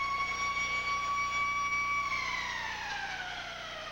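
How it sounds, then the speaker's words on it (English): A long, steady electronic arena siren ends a hockey period at a 1993 Nordiques vs. Canadiens playoff game, blaring with several held tones, dropping slightly in pitch near the end over crowd noise. "there goes the siren"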